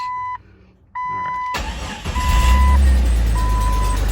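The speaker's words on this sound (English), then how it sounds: "Let's start her up again." A 2000 Jeep Cherokee XJ with a weak battery and no gas cranks and starts, its engine catching and rumbling steadily under a repeating chime, with clicks before the start.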